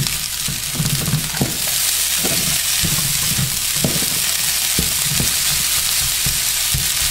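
Fried rice broken up and flipped in a pan over medium-high heat: loud, constant sizzling punctuated by repeated scraping and turning knocks of the utensil, no voices.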